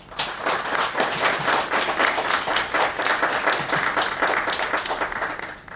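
A large crowd applauds a panel of jurists at a tribunal verdict announcement, steadily and loudly throughout, dense clapping with a few cheers mixed in, sustained from start to finish.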